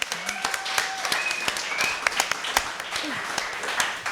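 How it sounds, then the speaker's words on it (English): Audience applause with cheering at a semifinal round of a televised singing competition, steady dense clapping lasting the whole stretch with whoops and voices over it. "Ladies and gentlemen, let's have a warm round of applause for Pierre Redding."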